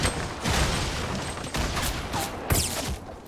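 Grenades launched and exploding in a shooter video game, a steady rumbling barrage with several sharper booming hits spaced about a second apart, loud and dense throughout, with no talk.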